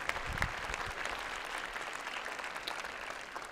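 An audience at a Martin Luther King Jr. birthday celebration applauds, a fairly faint, steady wash of clapping heard from a distance throughout.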